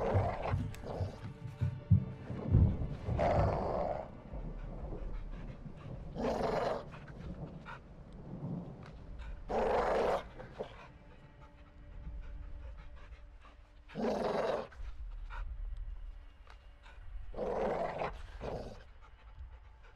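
A caged dog in Modern Warfare II panting and letting out rough growls and barks in several loud bursts, separated by quieter stretches of game ambience.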